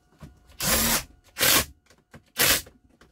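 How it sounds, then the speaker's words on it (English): A power drill driving a bolt while assembling a gaming chair whirs in three short bursts, the first longest, with brief quiet gaps and faint clicks between. "And just use your drill."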